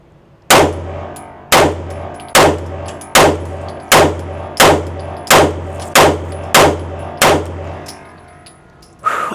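Ten loud, sharp pistol shots from a Kimber 2K11 Comp fire at a steady pace about one per second at a shooting range, each with a short ringing tail, and an eleventh shot comes after a longer pause.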